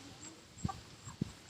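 Garden hens give two short, soft clucks a half-second apart, faint against quiet outdoor background noise.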